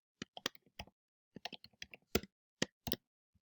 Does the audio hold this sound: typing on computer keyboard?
yes